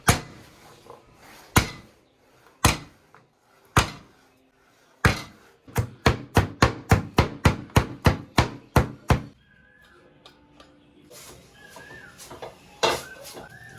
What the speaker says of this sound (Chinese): 把蒜拍一下